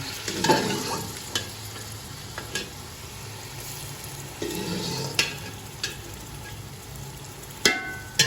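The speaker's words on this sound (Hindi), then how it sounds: "ये मसाला अच्छी तरह से हमारा फ्राई हो चुका है। अब हम इसमें डालेंगे गोश्त।" Boiled beef goes into fried masala in a pan for beef yakhni pulao, sizzling steadily while a spoon scrapes and stirs with intermittent clacks, close and fairly quiet, with no talk.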